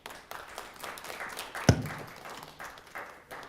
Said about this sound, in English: please, no clapping, just for the decorum of the council chambers